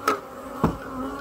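Honeybees buzz around an open hive in summer, a steady close drone with a couple of brief louder passes as individual bees fly near.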